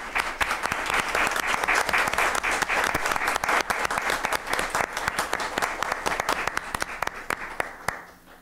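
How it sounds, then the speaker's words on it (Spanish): A room full of people at a council session applauds for an award, a dense, even wash of clapping with sharp individual claps standing out, sustained and then tapering at the end. "Un gran aplauso, por favor."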